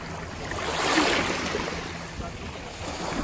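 Shallow sea waves washing onto a beach at Abel Tasman, New Zealand, a steady broadband wash that swells around the first second, with wind noise.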